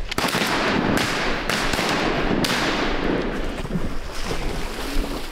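Several shotgun blasts fired at a duck during a hunt, sharp loud cracks spaced unevenly over steady wind and outdoor noise, with no speech.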